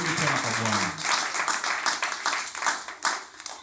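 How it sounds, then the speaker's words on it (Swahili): A church congregation breaks into a burst of clapping and applause, dense and close, with a voice speaking briefly at the start. "Makofi mazuri tena kwa Bwana."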